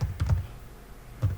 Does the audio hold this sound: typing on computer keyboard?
yes